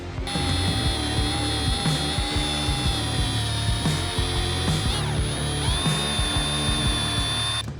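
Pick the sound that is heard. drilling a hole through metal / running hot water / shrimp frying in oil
drilling a hole through metal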